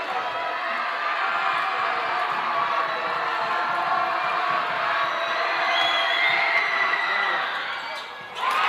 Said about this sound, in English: The home crowd gets loud.